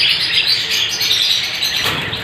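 Hongoromo and triple crested budgies chirping in an aviary, a dense, continuous chatter of bright tweets close by, with a brief flutter near the end.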